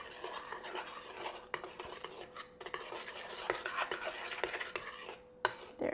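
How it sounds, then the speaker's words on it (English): A utensil scrapes and clinks steadily against a bowl as a yeast mixture is stirred for bagel dough, close up, with sharp taps now and then and no talking. "we're going to take our yeast mixture and we're going to stir it up until the yeast is dissolved"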